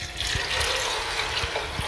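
Water, about 1.5 litres, poured into a pressure cooker over soaked lentils, a soft continuous splashing and trickling, fairly quiet and steady for a couple of seconds with no talking.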